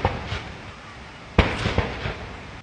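Cannon salute fired during a state welcome ceremony with an honor parade at a presidential palace in Uganda: a sharp heavy boom rises over constant crowd and outdoor noise, followed by a few smaller bursts.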